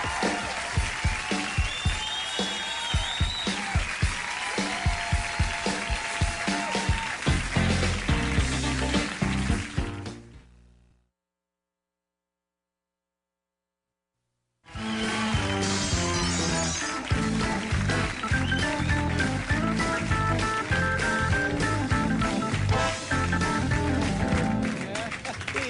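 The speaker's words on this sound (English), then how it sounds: "The audience applauding along as if this were a hoedown." Studio audience on a late-night TV show clapping along to a live country song performance, steady rhythmic claps mixed with music, loud and continuous, cut off by a few seconds of silence before resuming.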